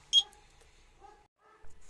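An SK-8 alarm unit fitted to a John Deere 952 combine beeps during calibration, giving a short sharp electronic chirp followed by fainter tones, quiet and sparse with no talk.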